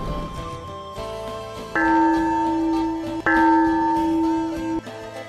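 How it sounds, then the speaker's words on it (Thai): Two resonant bell strikes ringing across a village in the morning, each ringing out and slowly decaying, carrying over a low steady background. "เสียงระฆังดังกังวานไกลไปทั้งทั่วหมู่บ้าน"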